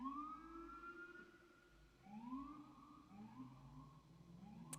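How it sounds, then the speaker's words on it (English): Several sirens wail together in rising and falling sweeps, quiet and at a middle distance, with no one speaking over them. "we were doing pretty good with the sirens, and there we go"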